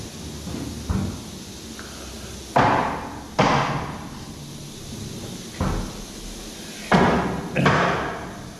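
A sheet of cardboard being fitted as a bulkhead in the back of a soybean shipping container produces a series of separate hollow thumps and bangs, about seven, irregularly spaced and fairly close.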